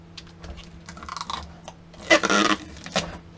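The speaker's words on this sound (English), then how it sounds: "Peeling the protective film off a screen" Protective film peels off the 6.2-inch LCD touchscreen of a new PowerAcoustik PDN-621HB car stereo, heard up close as crackly tearing bursts with light tapping and handling sounds, louder near the end.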